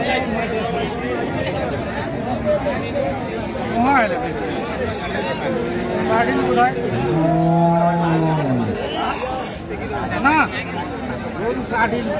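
Cattle moo with long, low drawn-out calls amid a busy crowd of people chattering nearby at a cattle market.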